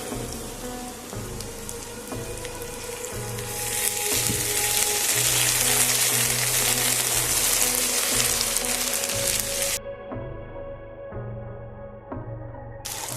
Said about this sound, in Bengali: আদা রসুনের পেস্টের কাঁচা গন্ধটা না যাওয়া পর্যন্ত একটু ভালো করে ভেজে নেব